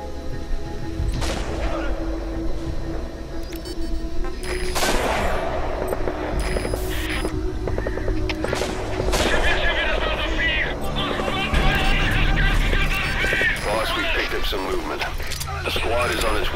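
Gunfire in Metal Gear Solid 5 The Phantom Pain: repeated sharp shots and bursts with booms and mechanical clatter, loud throughout, with voices talking over the battle.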